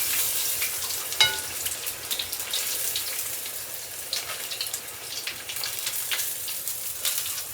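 Halibut pieces frying in hot oil give a steady, close crackling sizzle that runs the whole time, with scattered sharper pops and spits and no talking.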